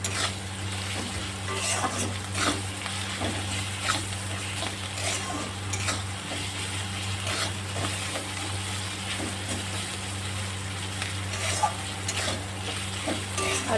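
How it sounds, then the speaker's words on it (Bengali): Spice masala with tomato fried and stirred in a pan, a continuous close sizzle with repeated spatula scrapes and clinks at a fairly regular rhythm, with a low steady hum beneath and no talk. "টমেটোটাও আমি এর সাথে দিয়ে দেবো এবার আমি মশলাটা কষিয়ে নেব"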